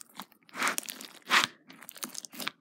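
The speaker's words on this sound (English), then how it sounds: "when you're poking it, you get that crunchy filling with it." Crunchy slime is poked, giving a quick series of crackling, crunchy squishes in uneven bursts, close and fairly quiet with no voices.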